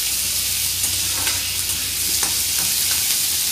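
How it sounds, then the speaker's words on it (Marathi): Onion frying in a pan until golden for a chawli bean vegetable, a loud, dense, continuous sizzle with faint stirring scrapes, close up and uninterrupted by talk. "कांदा चांगला सोनेरी रंगाचा होईपर्यंत भाजून घ्यायचा आहे।"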